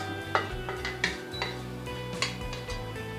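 Cooked burger fillings, seasoned with balsamic vinegar, get moved from a stovetop pan onto a plate with a utensil: a few sharp metallic clinks and scrapes spaced irregularly over a steady low background hum.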